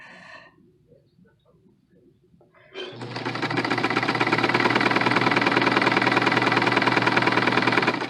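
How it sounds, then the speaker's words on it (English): After a few seconds of quiet handling, a serger starts up sewing side seams and runs continuously with a loud, fast, buzzing whir that stays steady to the end. "I like to serge my side seams"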